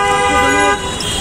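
A car horn blares loud and close in a Dhaka traffic jam, one sustained tonal blast that cuts off partway, leaving road noise behind.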